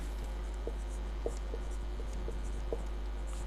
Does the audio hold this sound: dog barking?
no